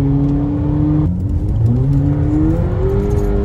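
VW Polo 6 GTI from 2019 with a 200 hp 2.0 TSI, accelerating hard and spinning its wheels: a loud, close engine whine climbs, breaks off at a sharp upshift, then climbs again.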